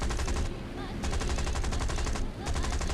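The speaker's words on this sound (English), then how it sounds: "especially with this enemy anti-aircraft fire" Enemy anti-aircraft guns fire in the War Thunder air-combat game, a dense and rapid stream of loud shots hammering steadily throughout, with a brief dip in intensity partway through.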